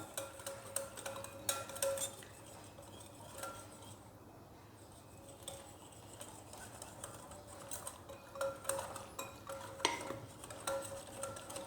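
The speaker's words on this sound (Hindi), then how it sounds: "अब इसके अंदर 1-1 चम्मच करके बेसन ऐड करेंगे और धीरे धीरे मिलाते रहेंगे" A spoon stirs gram flour into dhokla batter in a bowl, a steady run of soft clicking and scraping taps that rise and fall in bursts, close up and fairly quiet, with no talking.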